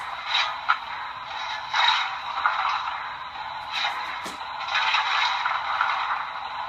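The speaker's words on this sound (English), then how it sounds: "As the fireman shovels coal into the firebox." A fireman scooping coal into the firebox, reproduced by the sound unit of a Broadway Limited Atlantic Coast Line Pacific model steam locomotive: repeated rough scrapes and rustles come in uneven bursts over a constant faint hum, close and alone.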